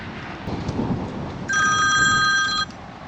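A telephone rings loudly for about a second with a bright electronic warble, outdoors against a rumbling, windy, stormy background.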